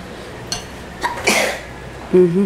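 A single close, sharp sneeze with a short breathy intake before it, followed by a brief voiced sound right after.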